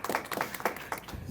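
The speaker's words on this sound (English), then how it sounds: "You'll clap more after you see me." Scattered audience clapping from a small gathering, a handful of sharp hand claps in quick succession, moderately close and fairly quiet, with no talking over it.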